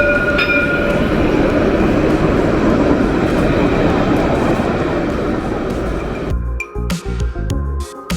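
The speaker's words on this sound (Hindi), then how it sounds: "सबसे बढ़िया ट्रेन मुझे यहाँ नीस की लगी, ये जो आप दिख रही है।" A train in Nice, France, gives a loud, close, continuous rumbling roar with faint high squeals. Near the end the roar drops away into choppier, uneven noise.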